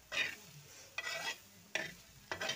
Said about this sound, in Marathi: आता हलवून घ्यायचं.